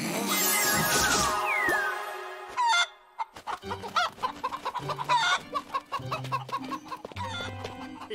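A cartoon ogre's voice imitates a clucking chicken, opening with a loud rooster-like squawk and crow, then a brief pause, then a long series of short, choppy clucks in an uneven rhythm.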